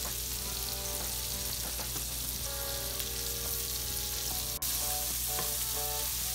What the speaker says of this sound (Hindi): और इसे हल्का सा भून लेंगे हम।